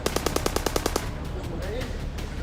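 Automatic gunfire from armed Hamas fighters shooting out of house windows during a hostage siege in Israel: a rapid burst of about ten evenly spaced shots over one second, then a noisy rumbling aftermath.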